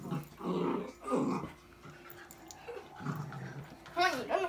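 A dog growls in short rough bursts while play fighting with a person, close and fairly loud, with a voice talking between the growls.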